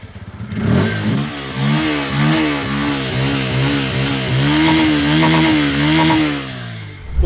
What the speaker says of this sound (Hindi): पल्सर का चेक करते हैं एग्जॉस्ट नोट किस तरह से है।